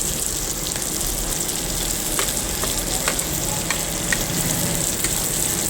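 Green chillies and curry leaves fry in hot oil with sliced onion for a Kottayam-style pork curry, giving a steady, loud, dense sizzle throughout with a few sharp crackles and spatters popping out.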